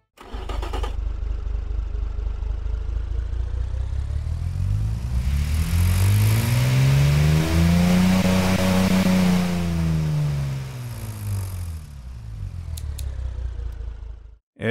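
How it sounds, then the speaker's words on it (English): A synthetic school bus diesel engine in a video game revs up, rising in pitch to a high whine, holds, then falls back to a lower idle rumble. "let's give a brief listen of what this little wannabe diesel engine sounds like right here"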